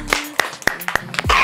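Small children at a family day care clap their hands during a sung rhyme, about six sharp, separate claps close by, with singing voices faintly around them.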